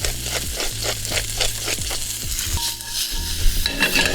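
Okra and pepper sizzle loudly as they hit a pan of hot olive oil that is nearly smoking. A dense, constant close-up frying hiss fills the clip, with rhythmic stirring and scraping of the vegetables over it, and no one speaks.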